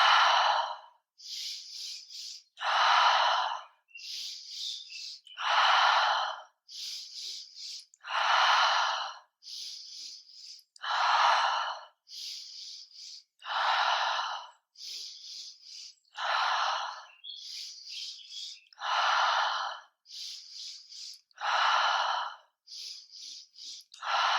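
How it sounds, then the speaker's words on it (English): Slow, deep yoga breathing, long drawn inhales alternating with audible exhales in a steady rhythm, close and fairly quiet, with no talking. "Take a breath to prepare. And exhale to release."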